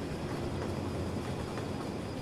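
Diesel train from the Cities: Skylines game running along its tracks, giving a steady, continuous rumbling roll with faint rhythmic wheel clatter, heard alone at a moderate level throughout.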